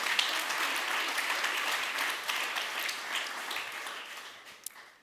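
Steady audience clapping at a humanitarian innovation pitch event in Luxembourg, a broad wash of hands that holds for several seconds, then thins out toward the end.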